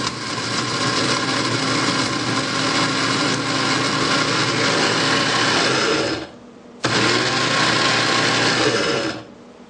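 Electric grinder pulverizing dried jalapeno peppers with their seeds, a loud steady high-pitched whir that cuts off briefly near the end, restarts, then stops.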